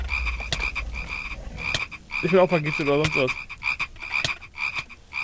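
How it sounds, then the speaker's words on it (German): Frogs in the Minecraft CrazyCraft modpack croak in a dense repeating chorus of loud, nasal rasping calls, with a single clearer burst in the middle, while someone speaks briefly over them. "Boah, hier klingt alles wie 1000 Frösche um mich herum."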